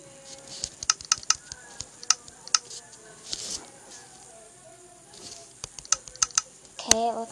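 Rapid bursts of keystrokes on a computer keyboard while a Minecraft Pocket Edition server connection fails, clicking in uneven clusters with pauses between, close and fairly crisp, with no talking.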